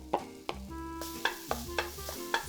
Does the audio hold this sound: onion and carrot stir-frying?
yes